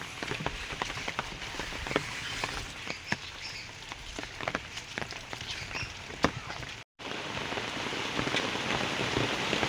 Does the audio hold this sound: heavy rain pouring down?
yes